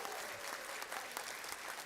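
Quiet, distant applause from an audience at the LEAD Summit at Cal State University San Bernardino, honoring a musician, with scattered sharper claps standing out over a continuous soft patter.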